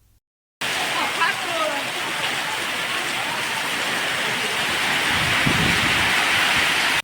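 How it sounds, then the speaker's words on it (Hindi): Heavy rain pours steadily in Gujarat, a dense, loud, unbroken hiss of downpour close by, starting abruptly after a brief silence and growing slightly heavier toward the end. "मालपुर के सज्जनपुरा कंपा में लगातार 3 दिनों से तेज बारिश जारी है।"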